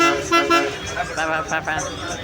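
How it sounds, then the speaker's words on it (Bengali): Repeated loud honking from a bus horn, several blasts in quick succession amid busy traffic noise on the road between Pondicherry and Villupuram. "এইভাবে হর্নটা মারছে শুধু"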